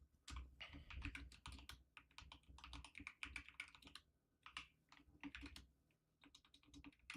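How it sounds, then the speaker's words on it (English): Rapid bursts of typing on a computer keyboard, close and clear, with uneven rhythm and short pauses between runs of keystrokes; no talking. "I'm just typing all this out now before market open."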